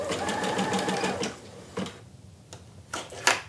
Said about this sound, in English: So I'm going to lower the presser foot and press my stop start button.